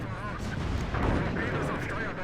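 Naval gunfire in the World of Warships video game, a rumbling barrage of booms that swells near the one-second mark and rolls on without a break as background battle noise.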